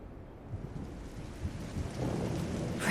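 Rain falls with rolling thunder in the video game Trails in the Sky, a low rumble swelling under a steady patter and growing louder toward the end, with no talk.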